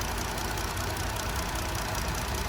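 A 2021 Jeep Gladiator Mojave's naturally aspirated 3.6-liter V6 idling in the open engine bay, a steady, even mechanical drone with a faint rapid tick, close and constant throughout with no talking.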